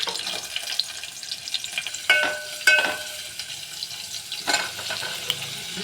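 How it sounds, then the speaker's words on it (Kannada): Cumin and mustard seeds sizzle and crackle in hot oil while tempering for Rajgir (amaranth leaf) palya, a steady close frying hiss with a few sharper pops and clinks of stirring. "ತಾಳಿಸ್ಬಿಡ್ತೀನಿ ಅದನ್ನು. ನೋಡಿರಿ, ಜೀರಿಗೆ, ಸಾಸಿವೆ ಹಾಕ್ಕೊಂಡೆ."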